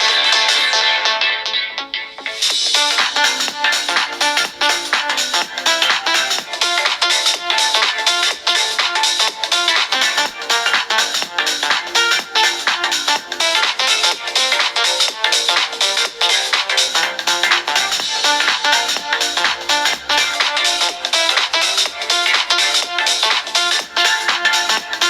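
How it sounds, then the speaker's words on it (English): Music playing through the built-in speakers of Redmi Note 12 and Redmi Note 11 phones, loud and continuous for the whole stretch, bright and somewhat thin in tone, with no talking. "Here's a speaker test of both phones."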